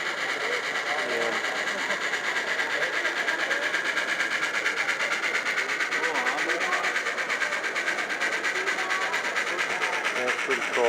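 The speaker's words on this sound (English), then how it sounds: "One engine with the caboose." A model train with one engine and a caboose runs at a train show, making a continuous soft rumble with light clatter against steady crowd chatter.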